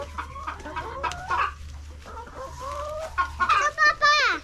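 Chickens cluck and squawk close by on a farm near a drained pond, a run of busy, uneven clucks with a rising squawk near the end.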